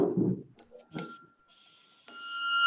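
A school debate timing bell rings faintly after a short murmur of voices, with a thin lingering tone and then a brighter strike near the end, heard at low volume.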